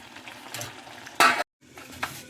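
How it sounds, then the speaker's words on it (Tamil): Tomatoes sauté in a pan for thokku, a low sizzle with a utensil stirring, one loud scraping burst and then a brief dead gap before the frying resumes. "சரி நல்லா வதங்கட்டும்"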